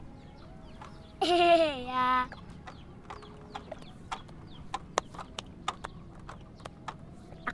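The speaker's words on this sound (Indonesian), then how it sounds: "Ada ayam." A chicken gives one brief, loud, throaty call lasting about a second, followed by faint scattered clicks and taps. A single short word is spoken quietly.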